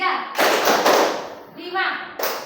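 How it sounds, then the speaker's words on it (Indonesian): Children in an Indonesian classroom clap in counted groups led by a teacher, bursts of sharp claps separated by short pauses while a voice calls out the counts between them. "Tepuk dua, tepuk empat, tepuk satu, tiga,"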